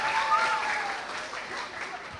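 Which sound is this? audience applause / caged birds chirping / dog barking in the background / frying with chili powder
audience applause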